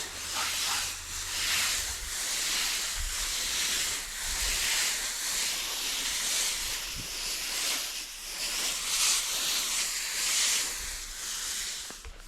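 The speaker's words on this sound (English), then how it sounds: "Give this a nice good watering." Steady, loud spray of water hissing onto dry garden soil along a carrot row during hot weather, continuous for the whole stretch with slight surges and no talking.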